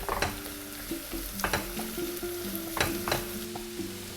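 Sausage meat removed from its casing is tossed and fried in a pan, a steady sizzle broken by several sharp stirring scrapes and clatters, close and alone without talk.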